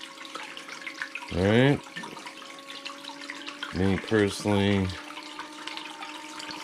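Water runs steadily through a gold sluice with an adjustable-flow dial at the beach, a continuous hiss under a voice as he talks.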